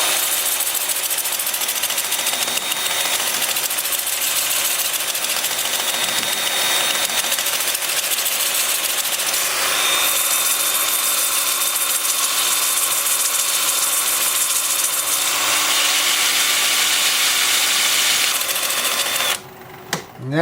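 A wood lathe turning a workpiece in reverse at about 400 RPM gives a loud, steady, continuous mechanical whir that holds unchanged for most of the time, then cuts off sharply near the end.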